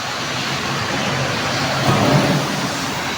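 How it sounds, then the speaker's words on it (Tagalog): Heavy rain pouring down suddenly as a steady, dense roar without break, loud and close, with a slight surge near the middle. "Grabe. Umulan."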